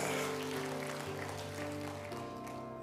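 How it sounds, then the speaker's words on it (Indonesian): Church congregation applauding during a Pentecost worship service at GSJS Tunjungan Plaza, Surabaya, a dense steady wash of clapping over sustained music tones throughout. "Tepuk tangan, saudaraku, haleluya."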